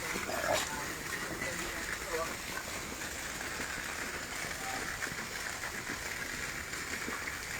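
Heavy rain pours down on a construction site as a steady, broad hiss of falling water that fills the scene from start to finish, with a voice faintly audible beneath it.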